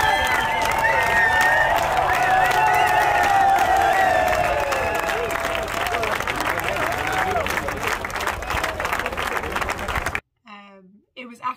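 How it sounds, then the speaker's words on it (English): A whole camp crowd at the Marathon des Sables 2022 desert ultramarathon cheers, claps and whoops for runners arriving after an 85.8 km stage, a loud sustained roar of applause and shouting that cuts off abruptly near the end, followed by brief faint talk. "an announcement comes around and the entire camp comes out to cheer in"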